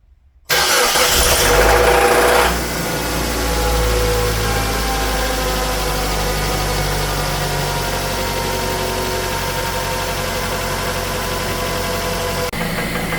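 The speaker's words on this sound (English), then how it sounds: "Going to start the car." Mazda 323 Protege engine cranks and fires after a thermostat replacement, a loud starting burst that settles into a steady, close idle with a slight knocking rhythm, no talking.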